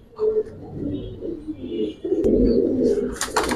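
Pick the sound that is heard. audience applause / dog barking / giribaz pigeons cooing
giribaz pigeons cooing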